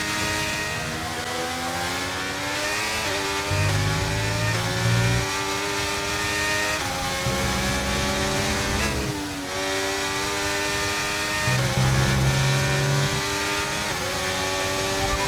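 A Formula 1 race car engine in the F1 23 racing game screams at high revs, dropping sharply on downshifts and climbing again through several gear changes at a steady, loud level with no talk.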